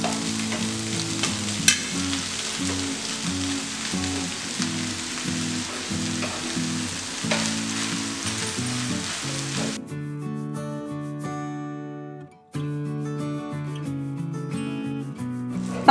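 Cooked noodles tossed with fried chicken in a hot pan give a steady frying hiss with rubbing stir strokes, under loud background music that carries on after the sizzle fades.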